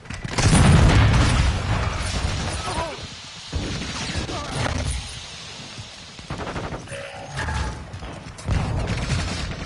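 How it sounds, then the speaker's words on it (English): A cluster mine goes off in Modern Warfare 2 DMZ: a loud opening blast followed by several scattered booms and crackling detonations, with mechanical clatter and gunfire mixed in and a voice talking. "Cluster mine deployed."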